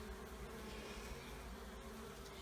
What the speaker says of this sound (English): There's a lot of bees in here for the top box.